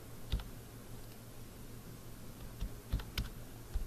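Someone taps on a computer keyboard in a few short clusters of quiet clicks, close by and faint, with a soft room hum underneath and gaps between keystrokes.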